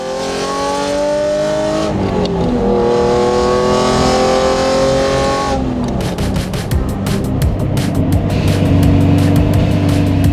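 A 1993 Ferrari Testarossa 512 TR engine revs loudly, its rising and falling pitch sweeping through the first six seconds before settling into a harsher, rougher roar.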